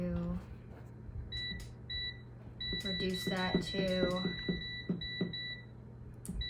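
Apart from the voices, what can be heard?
air fryer control beeps while setting the time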